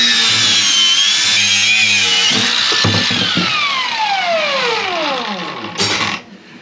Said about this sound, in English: the reason I'm using the angle grinder is because, as I said, there's a lot of stainless steel